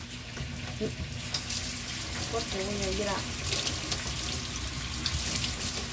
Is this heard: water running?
yes